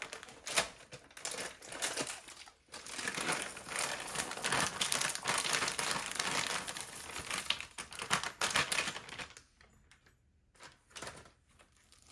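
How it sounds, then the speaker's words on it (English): Chocolate chips from a full 12-ounce bag are poured into cookie dough, giving a dense run of crinkly rattling and patters that stops near the end, with a few scattered clicks after. "So now I'm going to add the full 12-ounce bag of the chocolate chips"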